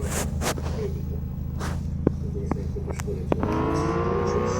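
Motorcycle engine in the mobile driving game Indian Bike Driving 3D, a steady droning hum with a rising rev toward the end, under someone talking.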